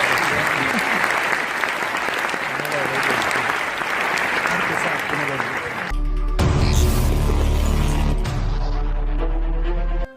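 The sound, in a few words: audience applause for the performing artists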